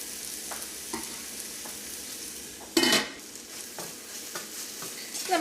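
Tomatoes cook in a pan on a low flame for a chicken curry, a soft steady sizzle with light stirring taps and one louder scrape of the utensil midway.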